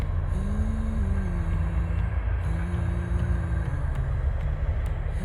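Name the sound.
freight train passing, maybe carrying oil or coal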